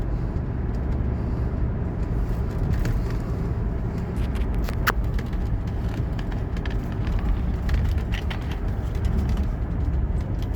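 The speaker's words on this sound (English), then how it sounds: "This is officially the fastest 126 300 SD that I've driven." A 1985 Mercedes 300SD, a W126 sedan, on a test drive: a steady, loud low rumble of engine and road noise from inside the car, with occasional faint clicks and rattles and no talking.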